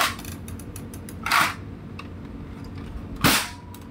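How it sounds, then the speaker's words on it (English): A cheap toy rifle, costing about $30, fires two sharp, loud cracks about two seconds apart, each followed by faint mechanical clicks. "It's really a loud gun."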